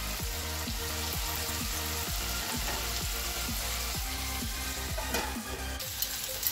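Lamb and beef roll frying under a lid in a pan over medium heat, giving a steady close sizzle with rhythmic crackling pops throughout, no voices.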